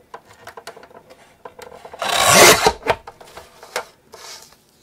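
Paper trimmer blade slicing through a cardstock panel, a loud rasping cut lasting about a second amid lighter scattered taps and handling clicks, close and alone.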